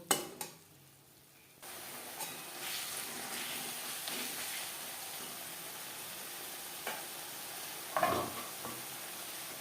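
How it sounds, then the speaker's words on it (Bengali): Ground spices and tomato sauté in a pan over a low gas flame for a vegetarian potato and pointed gourd curry, a quiet steady sizzle starting after a short pause, with occasional utensil knocks and stirring scrapes. "গ্যাসের ফ্লেমটাকে লোতে করে দিয়ে তিন চার মিনিট মশলা কষিয়ে নেব"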